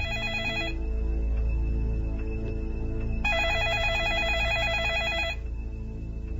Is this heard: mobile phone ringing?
yes